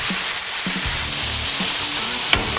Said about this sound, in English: It's been on there about 45 seconds, look at that beautiful sear.